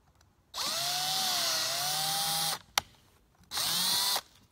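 A power drill bores a 1/8 inch hole in aluminum in two loud, close bursts, a long whining run then a shorter one, separated by a sharp click.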